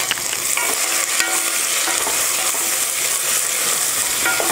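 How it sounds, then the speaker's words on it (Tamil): Small shallots and garlic, finely chopped, sauté in hot oil with a loud, dense crackling sizzle that holds steady throughout, marked by scraping sounds of stirring. "இது வெங்காயம் நல்லா வதங்கட்டும்"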